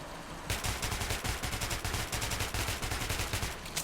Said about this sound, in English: I hate the Bastard Gun so much!